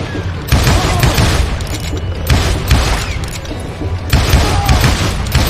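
Dense, close gunfire rattles through a shootout in the Western shooter Call of Juarez: Gunslinger, with rapid booming shots in repeated surges over a thick, continuous battle din.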